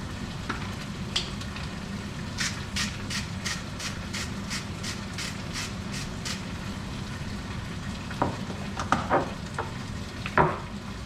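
Butter chicken sauce sizzles steadily in a pan while being stirred, a continuous close frying hiss with a run of regular scraping strokes and a few louder clatters near the end, no talking.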